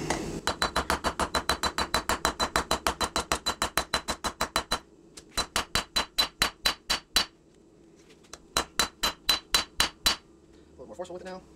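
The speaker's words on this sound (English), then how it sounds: "now we're gonna use our straight peen to kind of taper this out" A straight peen hammer forging the tang of an integral hidden-tang knife, a long run of sharp ringing metal strikes close by in steady rapid rhythm, broken by brief pauses between groups of blows.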